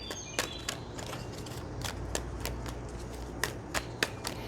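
A tarot deck is shuffled by hand, a run of quick papery riffles and soft slaps coming in close, uneven bursts, quiet and with no voices over it.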